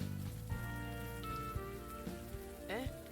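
Steady rain falls in the video game Unavowed, a continuous wash of drops beneath a layered musical score, with no talking.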